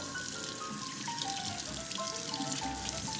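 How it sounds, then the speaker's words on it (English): Tap water running steadily into a cast iron pan being rinsed in a sink, a continuous close splashing trickle with no talking. "I'm going to turn on the water and rinse it off"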